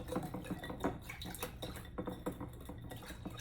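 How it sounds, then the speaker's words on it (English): A whisk or spoon clatters against a bowl as sugar and cornstarch are mixed into a pepper steak marinade, with quick irregular clinks and scrapes at close range and moderate volume, and no talking. "I'm gonna whisk this together in the cornstarch"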